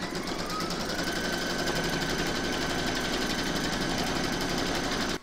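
Home embroidery machine stitching a placement outline on a hooped project, a fast steady mechanical whirr and needle chatter, loud and continuous throughout.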